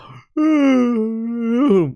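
A person lets out a long, drawn-out voiced yawn, a steady moaning tone lasting over a second that swells and then bends upward before trailing off, heard alone and close.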